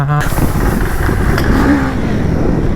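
A KTM motorcycle engine runs loud and close as it sets off on a dirt road at an off-road riding event, a steady mid-range drone with a slight rise, while someone talks over it.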